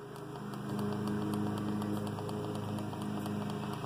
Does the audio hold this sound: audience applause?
no